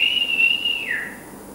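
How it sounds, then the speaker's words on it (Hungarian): A woman whistles with two fingers: one loud, piercing, sustained note that holds steady, then bends downward and fades near the end, heard alone without talk. "Hallottál te már nőt így fütyülni a két ujjával?"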